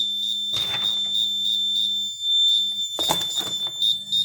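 An Arduino-based assistive blind stick sounds its obstacle alarm, a thin steady high electronic beep running through the whole stretch, with a lower buzzing tone and a few bursts of handling and clicking noise around it.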